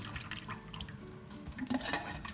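Water pours and drips as cooking liquid is drained from boiled gannet (guga) in a home kitchen, a close, steady splashing and trickling that swells briefly near the end.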